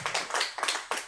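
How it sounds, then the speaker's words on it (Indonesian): Scattered hand claps from a small audience at a poetry reading, a few brief close bursts of applause in quick succession. "Tepuk tangan sekali lagi untuk Pak Tarmizi."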